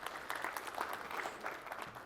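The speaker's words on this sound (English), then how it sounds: "Give them a round of applause" A lecture audience claps in a steady round of applause, a dense, even patter of many hands heard at a distance, with no talking.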